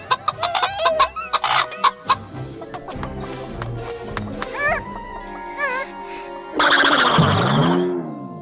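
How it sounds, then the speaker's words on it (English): A chicken clucks in a backyard, repeated clucks and squawks in a busy cartoon-style scene with music, close and fairly loud, ending in a louder burst of sound. "That's because this is no ordinary chicken."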